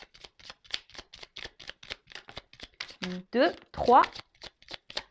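Playing cards being shuffled and drawn give quick crisp riffles and flicks in a steady rapid rhythm, close and clear, with a voice speaking briefly midway.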